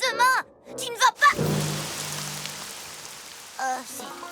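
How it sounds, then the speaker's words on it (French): Steady rain of chocolate milk pattering down in a My Little Pony cartoon, a soft hiss that sets in after a splash and carries on, with cartoon voices talking before and after. "Rainbow Dash, c'est quoi cette pluie?"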